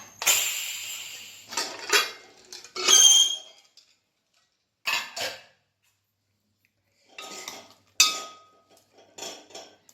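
The lid of a pressure cooker holding a freshly cooked Kerala curry is worked open with a series of sharp metallic clanks and clinks, separated by short silences.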